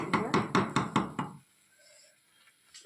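Chicken leg pieces are stirred in a pan over full heat, giving seven quick rhythmic knocks of a utensil against the pan, close and crisp, before the sound falls to near silence.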